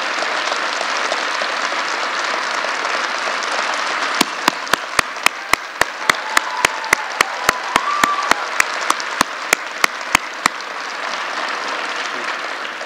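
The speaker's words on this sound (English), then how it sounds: "Let's give him a round of applause." Sustained audience applause fills a gubernatorial bill-signing ceremony for a red flag gun protection law, a steady dense wash of clapping with sharper individual claps standing out partway through.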